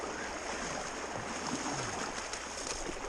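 Glacier-fed stream water rushes and splashes steadily as someone wades across it in the Brooks Range, a broad continuous wash of moving water close by with no talk.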